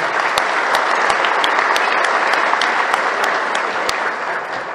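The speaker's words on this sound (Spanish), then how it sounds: "Un aplauso grande para ellos." A crowd at a transport press conference in the State of Mexico gives sustained applause, dense steady clapping with a few sharp individual claps standing out, no voices over it.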